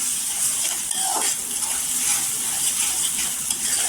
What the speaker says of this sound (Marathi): इथे अद्रक लसणाची पेस्ट टाकले 2 चमचा. ती छान अशी आहे ना परतून घ्यायची तेलावर.